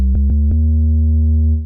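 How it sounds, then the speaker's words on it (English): A deep, sustained synth bass note droning loudly, with a few soft clicky plucks at the start before the tone holds steady, as part of a hip-hop beat. "So first of all, I add this bass"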